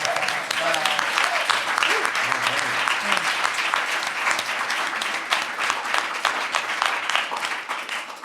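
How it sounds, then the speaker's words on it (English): Audience applause at a theology event after an educator's award is mentioned, sustained dense clapping from a large crowd that carries on steadily and fades slightly at the end. "That deserves applause."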